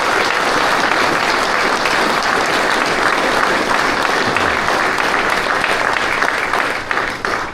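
An audience at a yacht club commissioning ceremony claps loudly and steadily for several seconds, a dense even wash of many hands that tapers slightly at the very end.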